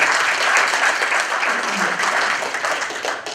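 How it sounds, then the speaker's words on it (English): An audience at a conference gathering gives sustained applause, a dense, even wash of many hands clapping that holds steady for the whole stretch and tapers slightly at the end. "So I'd actually like you to give yourselves a round of applause for stepping forward."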